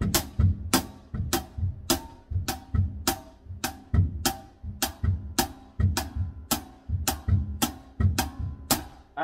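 The hi-hat part of a songo drum groove, played together with the kick: sharp, bright hi-hat hits in a syncopated repeating rhythm over soft low thumps, close-miked and continuous.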